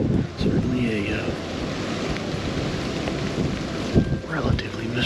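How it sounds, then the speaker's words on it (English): Steady rain and gusting wind wash through a Michigan woods on a cold public-land deer hunting day, a continuous broadband roar with a few brief louder gusts and faint scattered sounds. "it's currently raining and still windy"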